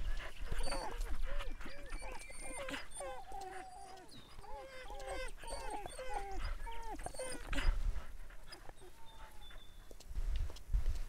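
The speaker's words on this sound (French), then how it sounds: "C'est mon chien!" Dog whimpering and yipping in the farming game Lumberjack's Dynasty, a run of high, wavering whines repeating steadily, close and fairly loud, with other game sounds beneath.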